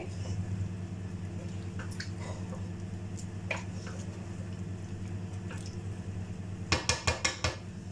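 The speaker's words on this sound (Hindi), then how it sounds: "अब इसको अच्छे से मिक्स करके 10 से 12 मिनट इसकी भुनाई कर लेंगे हाई फ्लेम पे।" Biryani masala roasting and being stirred in a pot on high flame, with a steady low cooking hiss under scattered utensil scrapes and a quick burst of metallic clinks of a spoon against the pot near the end.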